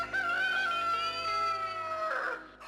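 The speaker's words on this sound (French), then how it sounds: "Un coq chante pour communiquer avec les poules et les autres coqs." A rooster crows once in a single long, loud, close cock-a-doodle-doo that rises and then trails off, with nothing else behind it.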